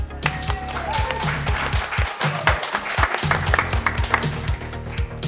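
An audience gives applause to a guest who rowed across the Atlantic in a rowing boat. It is a steady, close wash of clapping with sharp taps and thumps throughout and a low hum beneath.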